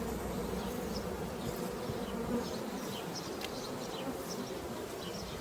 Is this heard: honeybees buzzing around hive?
yes